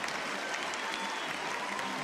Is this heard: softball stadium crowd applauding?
yes